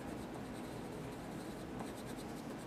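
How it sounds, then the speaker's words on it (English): Soft, steady scratching of an ebony pencil shading back and forth on paper, close and quiet, with no voices. "now I'm using my ebony pencil to color in"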